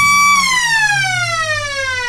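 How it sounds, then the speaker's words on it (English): The end-of-match siren at an Australian football game blares loud and sustained, its steady tone sliding gradually lower as it winds down. "the siren has beaten them, and that signals the end of this match"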